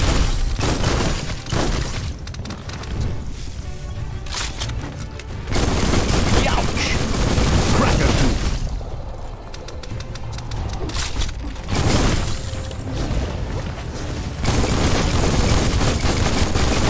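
Video game Biomutant combat: bursts of gunfire and shattering impacts in dense, loud volleys that rise and fall across the stretch, mixed with game sound effects and background music.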